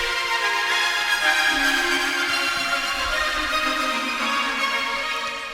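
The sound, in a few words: second melody overlaying the lead in an electronic track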